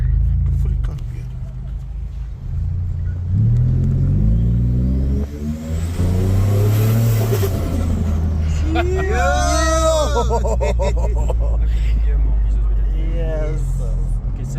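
A big-turbo Ford Raptor engine revs and accelerates on a test drive, climbing in pitch and holding a loud, steady drone close to the cabin while people talk over it.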